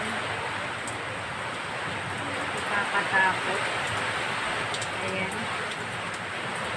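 Typhoon wind and rain pour down in a steady hissing roar, with a person speaking briefly partway through over the constant noise.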